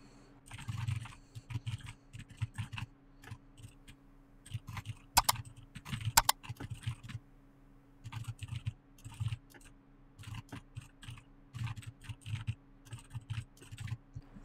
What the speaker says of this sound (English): So let me go ahead and type it in real quick.